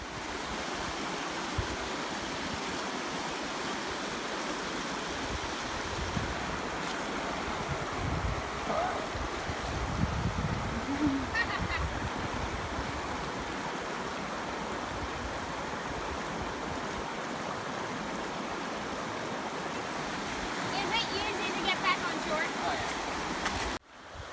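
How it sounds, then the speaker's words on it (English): Glacial rapids of the Eglinton River rushing steadily, a constant loud broadband roar of whitewater with wind buffeting the microphone, continuous and close throughout. "the boys braved the cold glacial waters of the Eglinton River with their bodyboards and jumped in to ride the rapids"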